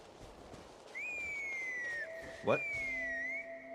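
Someone whistles a clear, sustained two-note tune in the video game Genshin Impact, with a brief spoken exclamation cutting in midway.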